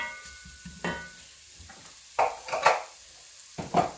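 Garlic and onion fry in olive oil in a pot, a low sizzle broken by a few sharp bursts of spoon scraping and stirring, close, with no voices.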